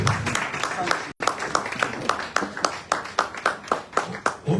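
Rhythmic group clapping at a meeting of religious leaders and tribal heads settles into an even, repeated beat of sharp claps with a brief dropout near the start and voices talking underneath.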